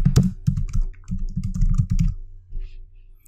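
Fast typing on a computer keyboard as a configuration title is entered, two bursts of close, crisp key clicks separated by a short pause, followed by a quieter stretch.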